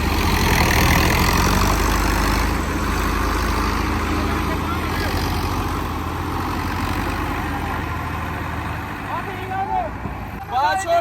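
A tractor engine idling and running steadily with a load hitched behind on a village road, a loud continuous low rumble throughout, with voices talking over it.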